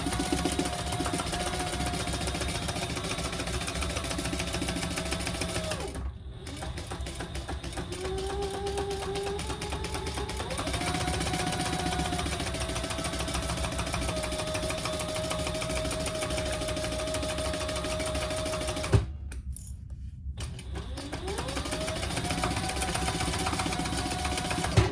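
A sewing machine bastes around a retro-style sling bag, stitching in a steady, close, continuous whir. It pauses briefly twice, and no one speaks.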